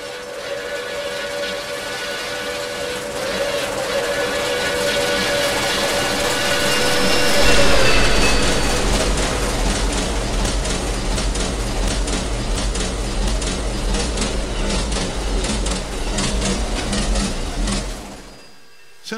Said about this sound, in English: The 5450 has the train really moving as she pierces through the darkness.